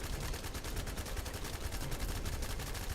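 Rapid, sustained full-magazine gunfire from a weapon in the shooter game The First Descendant, a dense unbroken stream of loud shots with no pauses.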